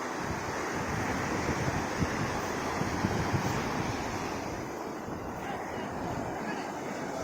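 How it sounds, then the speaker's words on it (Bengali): Ocean waves roll in at Puri beach with a constant, dense roar of surf, mixed with heavy wind buffeting the microphone throughout. "কত দূর থেকে সে ঢেউ আসছে,"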